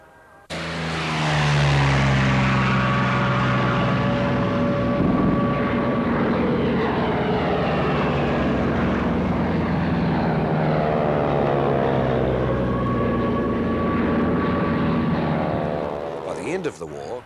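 Grumman Avenger propeller warplane flying at the 1994 Warbirds Over Wanaka airshow in New Zealand, a loud sustained droning roar with shifting engine tones as it passes, steady throughout and fading at the end.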